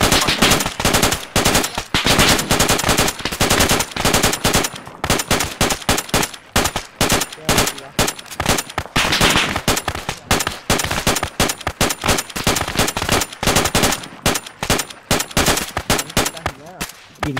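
Dense, loud automatic gunfire from the Arma 3 military game rattles in rapid continuous bursts with only brief gaps, close and dominant for the whole stretch.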